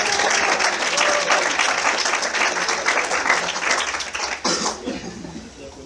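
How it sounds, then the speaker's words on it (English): Audience applause for Tanya Moore at a community storytelling event, loud sustained clapping from a crowd that gradually thins and fades toward the end. "Let's give her a round of applause."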